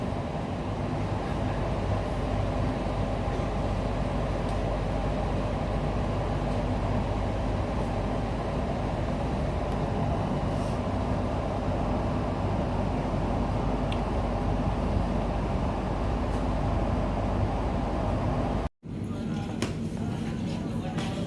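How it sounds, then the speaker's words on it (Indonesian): A KA Ranggajati stainless steel passenger train stops at Tanggul station, giving a steady, loud rumble and hum from inside the carriage that breaks off with a brief dropout near the end. "Perjalanan KA155 Ranggajati dari stasiun Surabaya Gubeng saat ini sudah tiba dan berhenti di stasiun Tanggul."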